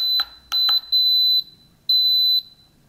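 A Hamilton Beach breakfast maker's timer gives off loud, piercing electronic beeps: a few quick short chirps followed by two sustained tones with short gaps between them, close and clear over a quiet room.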